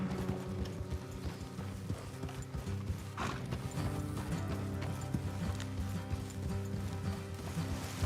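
Horse hooves clip-clop steadily at a trot in the video game Red Dead Redemption 2, mixed with rumbling and mechanical game background sounds; a whinny may rise briefly.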